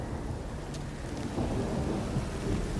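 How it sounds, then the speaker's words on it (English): A thunderstorm in The Witcher video game rumbles with dense, continuous low thunder and steady rain noise, swelling louder partway through, with no talk. "A storm, damn it."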